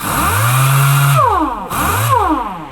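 A loud, close pneumatic air-powered sander whines at high speed on a vehicle, winds down, then spins up again, its pitch falling and rising between bursts.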